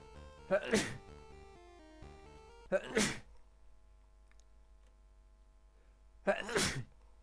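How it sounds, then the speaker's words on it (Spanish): Three sharp, close sneezes from a person playing Doom, each a loud sudden burst spaced a few seconds apart over quiet, steady game tones. "Lindo momento para hacerme estornudar."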